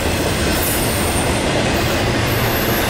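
Norfolk Southern intermodal freight train with AC44 and Dash 9 locomotives passing southbound by Lowell on track 1, heard as a loud, close, continuous rumble of rolling wagons with a faint high wheel squeal and no talk.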